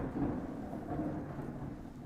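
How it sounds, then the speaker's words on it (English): Loud, deep thunder rumbles steadily through a Kentucky severe thunderstorm with a tornado watch and large hail risk in effect, a continuous low roll with faint rain beneath and no voices. "Get some loud thunder outside."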